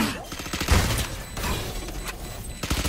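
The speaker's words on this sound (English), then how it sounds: "Placing swarm grenade. Swarm grenade out." Swarm grenade exploding in Valorant, a burst of crackling pops and booms in quick succession over busy game effects and music, loud and close.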